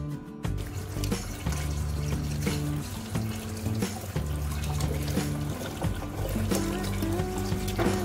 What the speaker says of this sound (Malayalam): വേവിച്ചെടുത്ത അട പച്ചവെള്ളം ഒഴിച്ച് നന്നായിട്ട് കഴുകിയെടുക്കണം